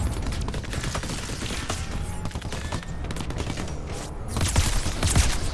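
A plasma rifle fires in the video game Crackdown 3, a rapid continuous stream of crackling shots over several seconds, dense and loud, growing heavier toward the end with deep thumps, no one talking.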